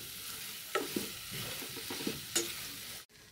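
Spices stirred into a tempered chili mixture in a pan, a soft steady sizzle marked by a few distinct spoon scrapes and knocks, close and quiet, ending abruptly.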